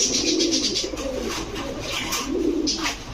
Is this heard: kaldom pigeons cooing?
yes